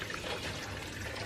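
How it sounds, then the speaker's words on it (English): Fabric softener poured into a tub of laundry rinse water, a steady continuous liquid pour and trickle, close and fairly quiet, with no talk over it. "I'm going to put the fabric softener."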